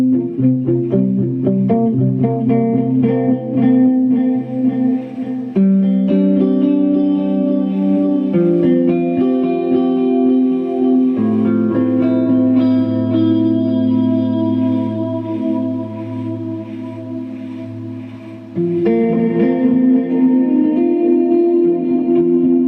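Electric guitar played through a delay effect from an Eventide H9 pedal, sustained chords and notes trailing repeating echoes that wash into each other, loud and alone with no talking.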